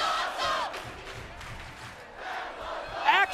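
A wrestling arena crowd at TNA Lockdown 2006 cheers and roars continuously at moderate volume, a broad wash of voices with rising shouts and a sharper swell near the end.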